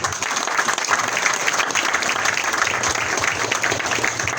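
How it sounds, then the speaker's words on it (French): A crowd at an outdoor political campaign meeting at a Libreville crossroads breaks into sustained applause, with loud, dense clapping throughout and faint voices mixed in. "nous devons lui dire merci par des applaudissements, s'il vous plaît."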